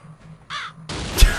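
A bird caws in the Gravity Bone video game, a single harsh call followed by a sudden burst of noise with a sharp bang, all brief and loud.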